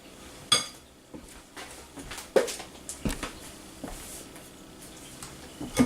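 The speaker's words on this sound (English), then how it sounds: "give everything a little toss here" Tongs lifting and flipping a Mexican green salad, with scattered clinks and soft clatters against a dish, one sharper knock near the start and light rustling between, close and moderately loud with no talking.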